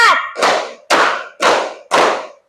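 Fourth-grade class clapping in a rhythmic chant: five loud, sharp claps spaced evenly about half a second apart, close by, with a voice just before the first.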